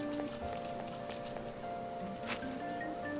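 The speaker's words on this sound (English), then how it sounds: "It's raining today." Steady rain hisses in Persona 5, a constant wash of drops with faint tonal game music layered on top. Even and moderately loud.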